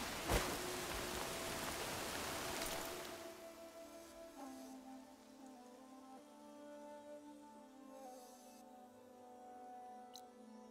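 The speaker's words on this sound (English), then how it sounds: "Sky's running out of rain for now." Rain in the video game Horizon Forbidden West, a hissing downpour that is loud for the first few seconds, then tapers to a thin patter under faint tonal music and scattered soft in-game sounds.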